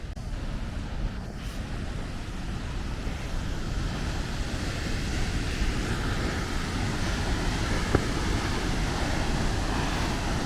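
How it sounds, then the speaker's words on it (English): Rushing water of a mountain waterfall on the Rutor Waterfalls trek near La Thuile in northern Italy makes a steady broadband roar, constant and fairly near, with no voices. "I can hear a lot of water. This might be the first waterfall."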